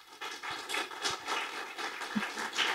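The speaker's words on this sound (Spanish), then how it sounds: "darle un fuerte aplauso a nuestra invitada" Faint, steady applause from a conference audience welcoming a guest speaker, a dense patter of many hands clapping continuously at a distance with no voices over it.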